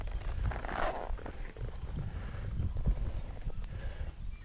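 A horse walks outdoors, its hooves clip-clopping in a loose, uneven rhythm, faint and mixed with wind buffeting the microphone.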